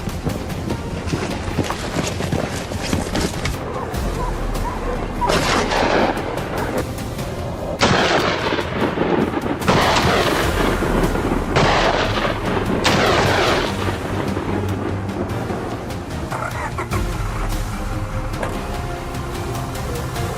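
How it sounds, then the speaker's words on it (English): Rifle fire during a wild boar hunt on a plateau: sustained, loud bursts of shooting with sharp cracks and rumbling blasts over steady wind-like noise, continuing throughout. "His rifle roared, unleashing a storm of bullets into their position."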